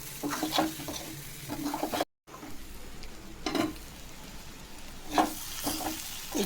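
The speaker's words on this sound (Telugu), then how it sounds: "ఇంకా కొంచెం ఉడకాలని అప్పుడప్పుడు కలుపుతూ ఉండాలి" A spoon stirs tamarind-leaf egg curry simmering in a pan, soft scraping strokes over a low bubbling sizzle, with a brief silent gap partway through.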